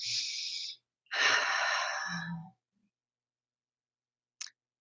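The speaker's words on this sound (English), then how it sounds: "Take a deep breath, close your eyes." A close, audible inhale, a brief pause, then a longer exhale with a soft vocal sigh at its end, followed by silence and a faint click.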